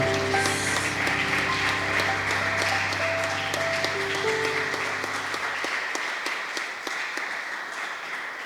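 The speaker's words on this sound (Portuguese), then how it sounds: "Aplaudamos ao Senhor." A church congregation applauds during a celebration service, dense sustained clapping under sustained organ-like chords that fade out, leaving the applause alone and gradually thinning toward the end.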